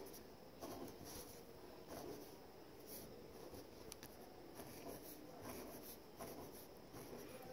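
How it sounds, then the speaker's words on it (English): Pen or pencil drawing big circles on paper, heard as a soft, close scratching that repeats in steady looping strokes, quiet and alone with no talk. "So we need to draw 9 big circles."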